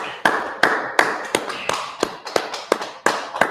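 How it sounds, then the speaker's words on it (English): People clap during a spoken religious gathering: about a dozen sharp, close hand claps in an uneven rhythm, each crisp and separate with short gaps between them, and no talking over them. "let's clap it up"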